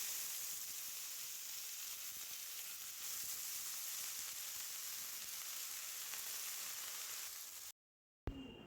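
Shredded cabbage dropped into hot oil with mustard seeds and asafoetida sizzles and hisses loudly and steadily, with light stirring, before a brief cut.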